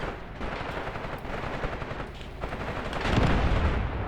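Tank gunfire from the Graviteam Tactics Mius Front war game, a dense continuous battle din of shots and rumbling blasts that swells louder toward the end.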